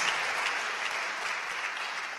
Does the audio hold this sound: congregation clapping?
yes